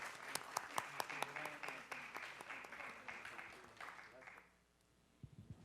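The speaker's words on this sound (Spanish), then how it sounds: "Un aplauso, por favor." Short burst of audience applause at a public management conference that fades out after a few seconds, with a few sharp nearby claps standing out, then near silence.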